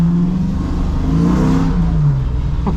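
A 392 SRT V8 in a 1970 Dodge Challenger revving hard, a loud close engine roar with pitch sweeping up and then easing down over a few seconds, alone without talk.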